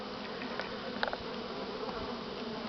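Honey bees hum at a hive in a steady, dense buzz, with a few brief louder passes of individual bees close by.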